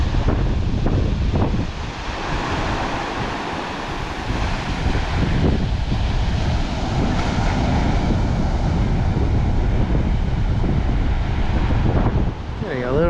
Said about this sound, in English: it's very windy walking into the wind